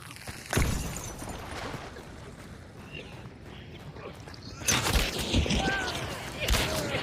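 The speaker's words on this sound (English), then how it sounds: "That's a grenade." In a video game, a grenade blast and bursts of gunfire crash in loud, broadband waves, one heavy impact early and a longer rolling eruption later, over faint background noise.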